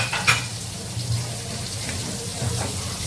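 Marinated fish frying in hot oil, a steady close sizzle and hiss that carries through the whole clip, with a faint clink early on and no talk.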